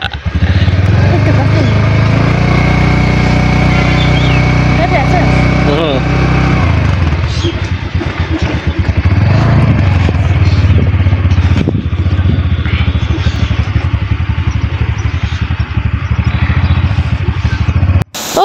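A scooter engine runs steadily through the whole stretch, a close, continuous motor drone with some clatter while riding, and people talk over it.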